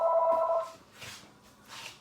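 A telephone rings with an incoming call, one short electronic ring burst at the start followed by softer repeated pulses, fairly close and with no talking over it.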